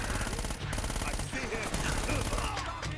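Dense, rapid bursts of submachine gun fire from an MP weapon in the action game Uncharted: Drake's Fortune, layered with game sound effects and music in a loud, busy mix.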